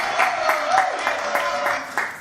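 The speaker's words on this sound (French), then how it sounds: "je vous demande de les applaudir très très fort" Studio audience on a French talk show applauds steadily at moderate distance, a dense wash of clapping with faint voices mixed in.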